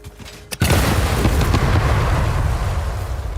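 A sudden deep boom from an explosion in the video game Satisfactory bursts in after a brief quiet, then gives way to a sustained, loud rumbling roar that stays heavy and dense to the end, with no talk.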